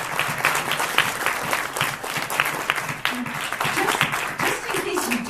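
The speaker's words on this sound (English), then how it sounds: "please, a round of applause for" An audience at a voice actors' fan Q&A panel gives a steady round of applause, dense clapping filling the room throughout with a few voices mixed in.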